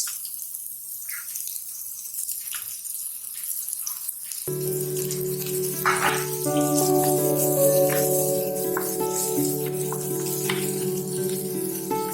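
Sliced onion hits hot oil in a frying pan, a steady sizzle and crackle swelling in after a quieter start, with background music throughout and faint splashy pops scattered on top.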